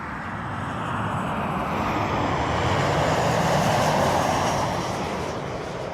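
Airliner taking off at Toronto Pearson Airport, a broad, steady engine roar that swells to a peak and then slowly eases off, heard from a distance with no voices.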